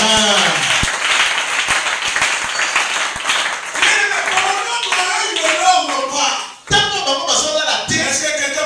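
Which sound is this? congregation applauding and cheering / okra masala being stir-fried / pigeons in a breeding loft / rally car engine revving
congregation applauding and cheering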